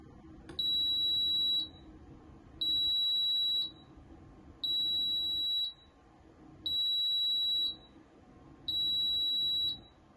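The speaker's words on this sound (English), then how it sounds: "So it's 5 beeps." A COSORI 5-quart rice cooker cooking jasmine rice signals with five evenly spaced, clear electronic beeps, each about a second long with short pauses, sounding close and alone over faint room hiss.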